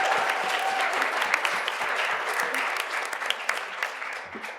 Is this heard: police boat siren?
no